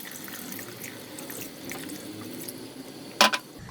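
Water is poured into a pot of tomato soup with browned tomatoes, a soft running wash followed by a sharp splash and clatter near the end.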